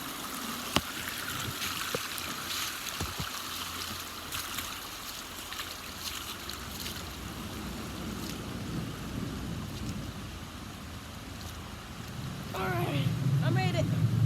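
Creek water flows in a steady broadband wash, close and continuous, heard while someone walks up the creek, with scattered clicks and a louder splashy surge near the end.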